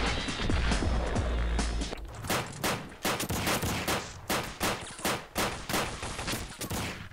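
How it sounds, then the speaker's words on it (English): Gunfire in Max Payne 2, heard as loud, close shots in a rapid irregular series following a dense opening burst. "I'm shooting way too low."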